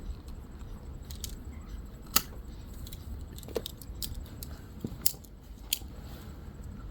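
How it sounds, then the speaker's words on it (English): A blade slicing through electrical cable gives several sharp, quiet snips and cracks spread across a few seconds against a low background hum. "Just to upset everybody, I'm going to use a blade to cut it."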